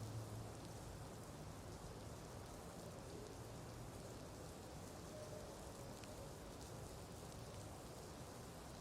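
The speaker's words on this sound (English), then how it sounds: "Alright, it's raining. Nice effect." Steady rain in the Xbox One video game Thief of Thieves: Season One falls in a dense, even hiss with soft pattering, continuous and moderately quiet, with no voices.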